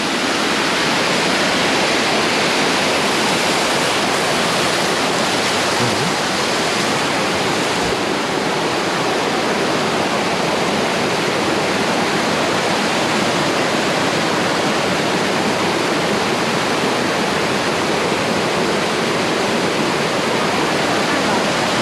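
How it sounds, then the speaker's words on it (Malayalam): The second waterfall at Thusharagiri in Wayanad roars in a steady, loud, unbroken rush of falling water, close by and continuous for the whole stretch. "ജയ്പൂരിട്ട് ഇതാ 2ആം വെള്ളച്ചാട്ടം ഇവിടെയാണ്."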